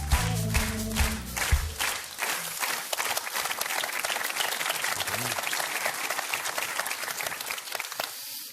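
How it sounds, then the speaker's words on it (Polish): A studio audience at a cabaret game show applauds the contestants, opening under music and a host's voice, then settling into steady, dense clapping that fades near the end. "Gorące brawa!"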